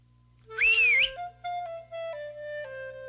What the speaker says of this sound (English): Jeremy's whistle brought quick results